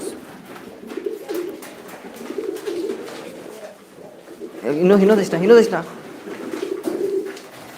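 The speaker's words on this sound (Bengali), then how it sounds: "কত সুন্দর কবুতর কবুতরগুলা বিভিন্ন জাতের কবুতর" Fancy pigeons, including Jacobin breeds, at a pigeon farm in Sylhet, cooing in low repeated rolling calls, with a louder nearby burst midway and someone talking over them.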